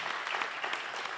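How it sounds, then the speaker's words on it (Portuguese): Dense audience applause at a photography festival award moment, steady and sustained throughout, a crowd clapping together with no talk over it. "Uma salva de palmas para a Amanda."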